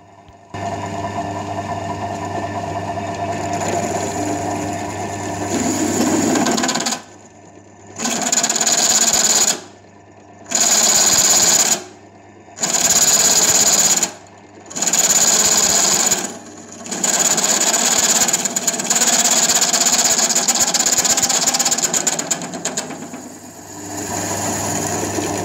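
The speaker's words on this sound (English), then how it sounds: "Here I am testing my new step drill." A new step drill cutting metal for a model live steam locomotive boiler build, running in repeated bursts of steady whirring with brief pauses between cuts, close and loud, with a constant low hum underneath and no talk.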